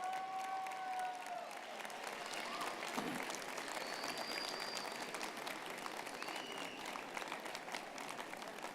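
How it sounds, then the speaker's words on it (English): Graduation convocation audience applauding and cheering in a large hall, dense sustained clapping with scattered whoops and a brief whistle, fairly distant and steady throughout. "Wave and cheer, make some noise."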